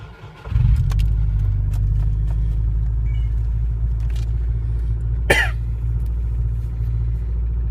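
A car engine rattles on a cold start at 7 degrees Fahrenheit in fluffy snow. It settles into a loud, steady, deep idling rumble, with a brief rough sputter partway through.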